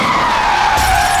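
A car skids with a loud, sustained tire screech and roaring engine in a single continuous burst before it overturns.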